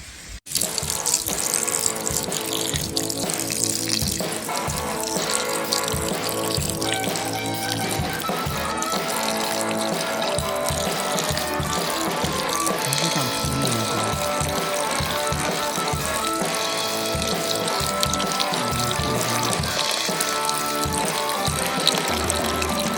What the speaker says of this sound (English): Getting ready to add that water to our stew meat.